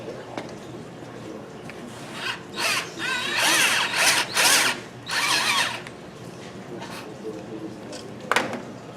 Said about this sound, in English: I'll drill in just a little bit so it'll sit on the collar.